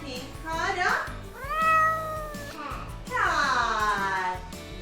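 A voice sings imitated cat meows as part of a children's farm-animal song, with rising and falling sung meows over a steady musical backing.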